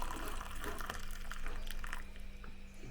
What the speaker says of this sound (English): I'll have to add some warm water to my morning tea.